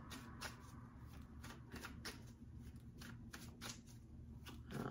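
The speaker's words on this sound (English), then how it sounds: "They want me to shuffle one last time here for this Justice card." A deck of tarot cards is shuffled close up during a reading, a run of quick riffling flicks and soft card slaps repeating in bursts over a quiet room tone.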